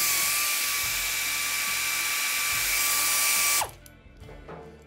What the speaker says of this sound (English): Air ratchet, oh.